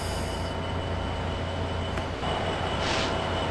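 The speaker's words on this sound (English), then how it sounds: "that'll be it for this live stream, guys, and for me driving the Amtrak Pacific Surfliner" An Amtrak Pacific Surfliner train rolling in the Open Rails train simulator game, a steady loud rail rumble and wheel noise with a brief higher squeal near the end, continuous and close, no voices.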